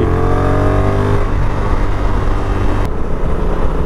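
A Honda motorcycle cruising at about 70 mph on a road, with a steady, loud engine note and heavy wind roar. The drone holds even throughout, with a slight shift partway through.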